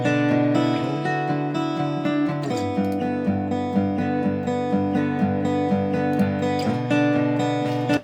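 An electric guitar plays a clean, ringing chord pattern with steady rhythmic strums, close and moderately loud, alone without voices.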